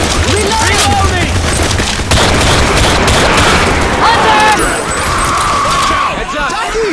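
Rapid video game gunfire from Left 4 Dead 2 rattles loudly in dense bursts with heavy booms and sharp cracks, while character voices shout over the din.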